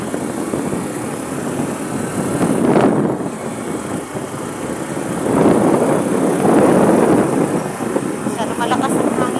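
Strong wind buffeting the microphone outdoors, with rumbling gusts that swell and ease across the clip, under a voice talking.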